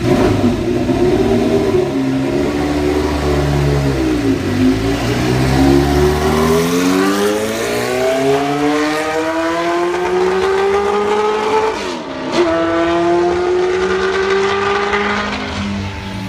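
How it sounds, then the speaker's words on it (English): A 1976 McLaren M26 Formula One car lapping the Brands Hatch circuit, its loud engine rising and falling through repeated revving sweeps as it accelerates, shifts and passes, with a brief dip mid-run. "It's an incredible sounding car."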